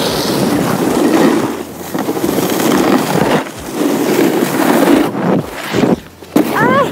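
Nitro snowboard carving across snow and lifting off for a cab 5, a steady broadband scrape and rush of wind over the board that drops away briefly near the end as it leaves the ground.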